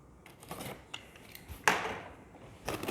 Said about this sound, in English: We're gonna cut this box open.